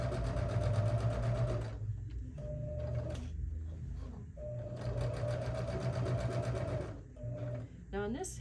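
A sewing machine stitches a tote bag handle in steady close bursts. The motor whirs and the needle chatters, with brief pauses between runs.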